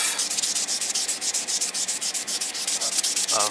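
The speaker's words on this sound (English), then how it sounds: "So I've gone over this with a sanding sponge. This is 600 grit." Rapid back-and-forth strokes of a 600 grit sanding sponge on a primed soft vinyl figure, a steady rhythmic rasping close by, continuing without pause.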